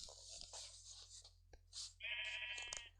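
Sheep bleating in the Minecraft video game, several short bleats separated by pauses, clear and fairly close, with no talking over them.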